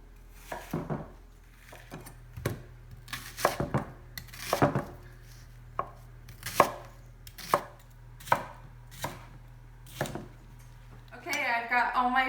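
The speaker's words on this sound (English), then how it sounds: "I'm going to coarsely chop these all into about 1-inch chunks" Knife chopping peppers and onions into coarse one-inch chunks on a board, about a dozen distinct sharp thuds spaced irregularly, fairly close and alone, with a brief clatter of pans at the end.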